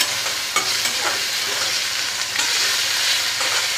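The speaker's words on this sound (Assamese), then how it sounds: "গোটেইখিনি এতিয়া মই ভালদৰে লৰাই দিম।" Onion with panch phoron and cumin sizzles and fries steadily in a pan while being stirred, a continuous close crackling hiss with occasional scraping strokes.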